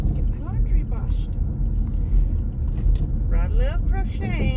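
Steady low road rumble of a car driving, heard from inside the cabin, continuous and fairly loud with faint chirps over it.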